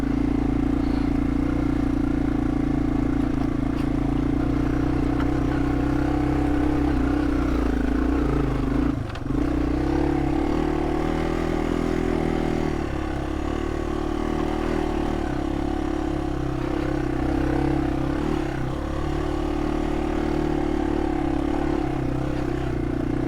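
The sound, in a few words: Yamaha TW200 motorcycle riding off-road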